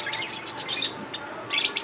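Pet birds in a bird shop chirp in quick, bright bursts, close and moderately loud, with a brief pause before a final cluster of tweets.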